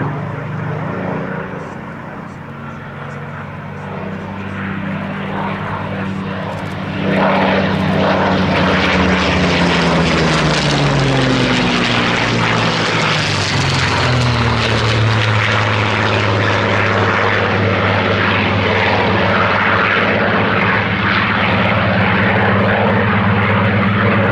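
Spitfire Mk5 and Seafire XVII piston fighters in a display at the Fly Navy air show: propeller engine drone growing to a loud, close roar as an aircraft passes, with a falling pitch sweep, sustained under crowd ambience.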